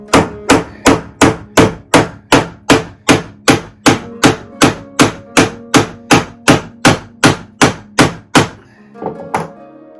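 A pin being driven out of a woodworking bench vise by hammering on a bolt, heard as about twenty evenly spaced, loud, close metallic blows, then a short pause and one last strike.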